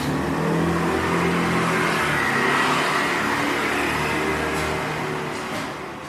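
A motorbike engine revs and pulls away on a village road, running loud and steady before gradually fading as it moves off.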